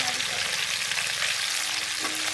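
Onions frying with salt in a pan, a soft, even, continuous sizzle heard up close and fairly quiet, with no talk over it.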